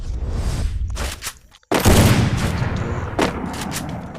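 Several heavy sniper rifle shots from an AWM in a mobile battle royale game, loud booming cracks with a brief silent gap before the biggest blast and another report later.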